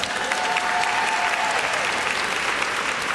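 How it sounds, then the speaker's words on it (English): Dense, steady applause from the audience at a kindergarten promotion ceremony, an even wash of many hands clapping throughout, fairly distant and without speech. "Give them another round of applause."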